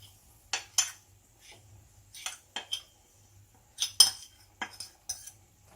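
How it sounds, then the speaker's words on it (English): A metal spoon scrapes and taps against a cooking pot as ground ogbono is added, a handful of sharp close clinks in uneven clusters over near silence. "I'm going to add my ogbono in there"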